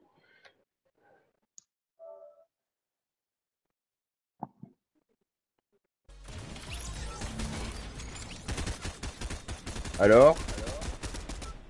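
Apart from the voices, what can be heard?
player shooting a gun in the video game Fortnite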